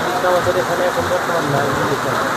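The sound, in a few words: heavy rain falling at riverside market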